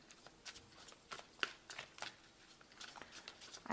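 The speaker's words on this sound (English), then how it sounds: "I have shuffled this deck." A Sorcerer's Tarot deck is shuffled by hand, a quiet run of soft card riffles and flicks in irregular bursts, close up and alone with no talking.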